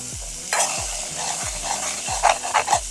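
Boiled chickpeas for a chickpea and potato curry are stirred in a hot pan. A brief burst of sizzling comes with several quick scraping spoon strokes, close and distinct, with no voices.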